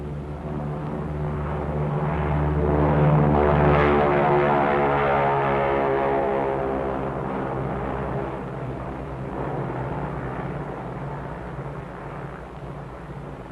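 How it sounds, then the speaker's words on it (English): Steady droning of a B-29 bomber's propeller engines in flight, loud and continuous, swelling slightly early on before settling into a constant roar. "the B-29 Dave's Dream, bomb-carrying aircraft"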